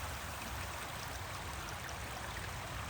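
A stream runs in a steady, broad rush of water, constant and even throughout with no voices, close enough to fill the space.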